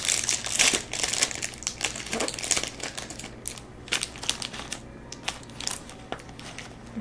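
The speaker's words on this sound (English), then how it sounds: "I'm sorry, it's gonna be crinkly." A crinkly plastic snack bag of little oyster crackers torn open and handled up close, with loud, irregular crackling and rustling bursts that gradually thin out.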